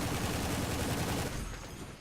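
Rapid autocannon bursts of API rounds fired at a tank in the War Thunder video game, a dense, loud rattle of shots that thins out toward the end.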